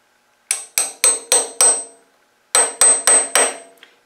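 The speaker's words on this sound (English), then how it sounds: "You can tell I'm an amateur with the claw hammer." Claw hammer blows striking wood in an amateur woodworking setup: a close, loud run of five sharp strikes, a pause of about half a second, then four more hits with a faint trailing tap.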